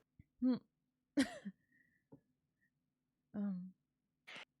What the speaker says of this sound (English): The constant coughing is not inspiring confidence.